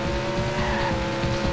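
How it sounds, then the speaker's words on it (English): Race car engine roaring in the WildTangent Speedway video game, loud and steady at launch with tire squeal mixed in, alone with no speech. "I just hit the gas"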